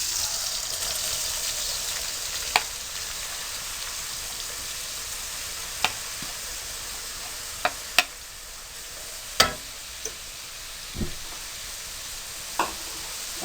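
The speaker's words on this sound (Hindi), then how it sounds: "अब आप आधा कप कुकिंग ऑयल को गर्म कीजिए और उसमें प्याज डाल दीजिए।" Onions frying in half a cup of hot cooking oil for a fish and pea masala curry, a steady close sizzle with sharp spatula clicks and scrapes scattered throughout, no voices.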